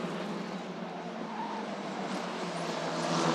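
An Italian F4 single-seater race car powered by Abarth at Paul Ricard, a steady loud engine roar sweeping past with rising pitch near the end, no talk.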